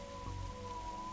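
Steady rain falls in the detective video game The Darkside Detective, a soft continuous hiss under a faint low musical drone, quiet and even throughout.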